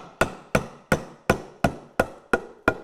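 A tenon being hammered into a tight mortise in a wooden door frame, eight sharp, evenly spaced blows in steady rhythm, close and crisp, with no talking.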